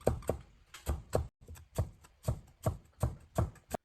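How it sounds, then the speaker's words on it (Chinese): Kitchen knife chopping a peeled carrot into small dice on a cutting board, crisp rhythmic knocks in quick pairs and runs, close and clear with no talk. "准备1根可爱的胡萝卜，去掉外皮，把胡萝卜切成小粒。"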